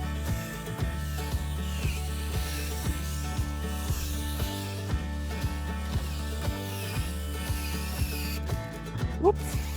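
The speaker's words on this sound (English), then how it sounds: "So Kaylene's using the 324 power planter, which is the 60 centimetre long one" A drill-driven 60 cm long power planter auger bores into compost, giving a steady motor whir and a regular clicking, grinding rhythm at close range, with no talking.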